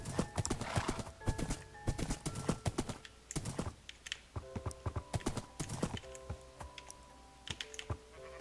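Horse hooves in the Minecraft video game clop in a rapid, steady rhythm throughout, mixed with sustained tonal game sounds and a few brief whinny-like calls.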